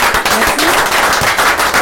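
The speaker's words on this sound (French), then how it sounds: "Donc, c'est vrai qu'on les applaudit." A studio audience at a television broadcast applauds with dense, loud, continuous clapping that fills the whole short stretch.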